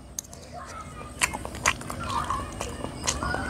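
A traditional Karen dessert, eaten while still hot, is bitten and chewed close to the mic with soft crunching and moist chewing, while voices murmur faintly in the background.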